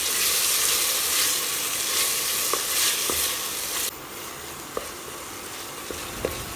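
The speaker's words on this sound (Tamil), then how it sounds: "அதை போட்டுட்டு இது கூட தேவையான அளவு உப்பு சேர்த்துட்டு நல்லா கூட்டாக வர வரைக்கும் வதக்கி விட்டுக்கோங்க" Chopped tomatoes with salt sauté in a pan for a village-style green field bean curry, giving a steady close sizzle with occasional sharp clicks from stirring, the sizzle dropping in level partway through.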